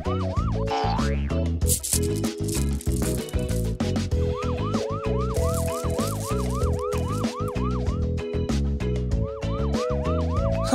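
A loud, continuous siren from a red fire truck in a children's cartoon wails and yelps in repeating rising-falling sweeps, close and dominating, with no talking.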